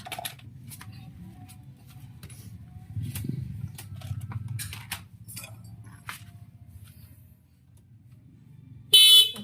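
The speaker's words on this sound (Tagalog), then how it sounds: "Ay, busina yun." A Yamaha Aerox V2 motor scooter idles with a low rumble among light clicks and taps, then gives one short, loud honk of its horn near the end.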